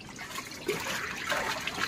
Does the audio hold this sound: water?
yes